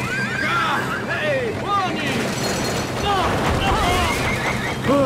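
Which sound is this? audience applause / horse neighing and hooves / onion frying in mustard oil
horse neighing and hooves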